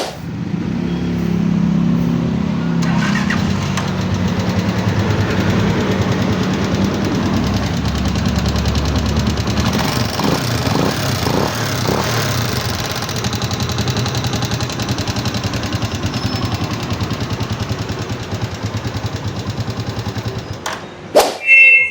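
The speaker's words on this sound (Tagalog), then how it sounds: "paparinig ko sa inyo kung gaano ka ingay yung makina nito" A noisy Microbike EXT motorcycle engine idles steadily close by, a constant low rumble with a rough, uneven chatter running for about twenty seconds, with a short louder burst near the end.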